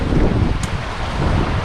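Strong wind roars across the open sea around a sailboat crossing from Cape Verde to Martinique in about 20 knots and 2–2.5 m swells, a steady close buffeting with one brief high hiss partway through.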